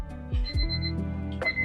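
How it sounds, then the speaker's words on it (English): A kitchen timer goes off in a home kitchen during fish and grits cooking, a bright ringing tone with a couple of sharp repeated chimes, close and moderately loud. "there goes that timer"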